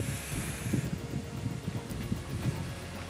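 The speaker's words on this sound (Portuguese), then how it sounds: "Muito vento, mano. Muito vento." Strong wind blows outdoors at dawn on a mountain trail, buffeting the microphone with continuous gusty roaring and rumbling, with no voices.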